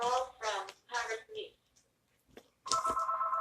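An indoor telephone starts ringing with a steady electronic warble right after a person finishes a few short spoken phrases, the ring continuing loud and unbroken.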